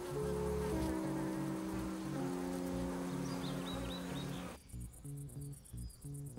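A steady buzzing of many bees near their hives fills the first part, then the drone drops away abruptly, leaving quieter pulsing hum.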